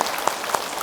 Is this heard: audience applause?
yes